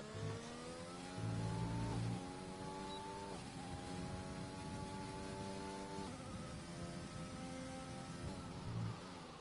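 Race car engine from a PS4 racing game on a lap of the Bahrain circuit, a steady high whine rising through the gears with short drops at each shift, continuous and fairly close.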